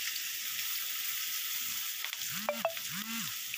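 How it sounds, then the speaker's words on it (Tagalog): Sliced food fries in a small pan with a constant soft sizzle, joined near the end by a couple of brief chirping tones, quiet and close. "Ipirituhin ko dito sa maliit na kawali."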